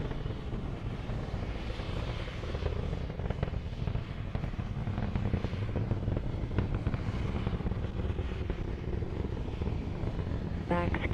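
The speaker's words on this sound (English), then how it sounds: "Falcon 9 has now reached the point of maximum dynamic pressure." A SpaceX Falcon 9 rocket climbs through maximum dynamic pressure during a cargo launch to the International Space Station, heard as a continuous, distant crackling rumble with faint voices underneath.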